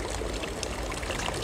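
A public drinking fountain outdoors pours a continuous stream of water, a quiet, steady splash and burble close by with no voices.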